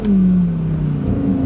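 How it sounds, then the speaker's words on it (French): Lamborghini Huracán Sterrato V10 revving loudly through very short exhausts, a rising then settling engine note heard up close with no talk over it. "tu aies ces échappements tellement courts en fait, la distance entre le moteur et la sortie est tellement courte que tu as ce bruit qui est juste exceptionnel"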